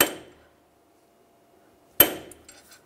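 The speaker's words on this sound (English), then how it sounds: "we're just gonna take a punch and a hammer, line that up, and just tap it" Two sharp metallic taps about two seconds apart, each ringing briefly, with a faint clink trailing the second, as a hammer strikes a punch to peen over a front CV axle nut on a 2004-2009 Toyota Prius.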